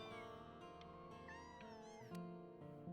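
Several house cats meow in short, rising calls over a steady backdrop of sustained tones, with one louder, longer meow near the end.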